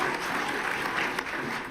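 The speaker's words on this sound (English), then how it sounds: "you could hear the applause all the way from Davos to the White House" Sustained applause from a large audience at Davos following a presidential speech, a steady dense wash of clapping with no voices on top.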